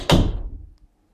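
A balcony door in a home closing with a single loud, close thunk that decays over about half a second, followed by silence.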